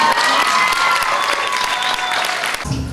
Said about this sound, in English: Can you give her a round of applause for that?